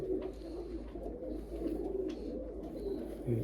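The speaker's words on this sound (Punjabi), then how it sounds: "ਇਹ ਪਿਓਰ ਹਜ਼ਾਰ ਵਾਲਾ ਕਬੂਤਰ ਹੈ ਜੀ" Twenty-year-old pure Hazar wala pigeon cooing in soft low repeated calls, close by against a steady low background hum.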